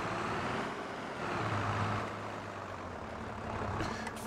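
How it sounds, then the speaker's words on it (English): A farm tractor's engine runs steadily during grass-cutting work, a loud continuous low rumble with a steady drone that swells slightly midway and holds without pause. "Let's grab this tractor that we have not used yet."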